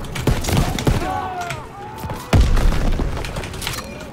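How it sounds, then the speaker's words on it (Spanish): Grenade blast in Call of Duty WW2 gameplay, a sudden heavy boom midway through, set among smaller thuds and game effects, with whistling tones and scattered impacts around it. "Aquí granada,"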